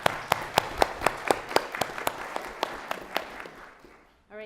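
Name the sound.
applause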